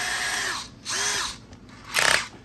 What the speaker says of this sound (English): So we're going to put it right on our punch mark and drill away.